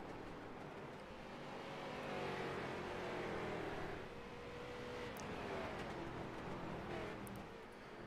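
Street stock race cars snarl out of the corners with steady, rising engine drone from a moderate distance, the pitch climbing and falling as cars accelerate past, continuous over the whole stretch with no talk.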